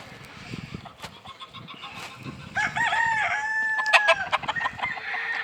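Bantam chickens in brood pens give soft scattered clucks, then a rooster breaks into a loud, drawn-out crow up close with more clucking around it.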